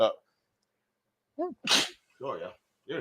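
One sharp, close sneeze bursts out between short bits of conversational speech in a quiet room.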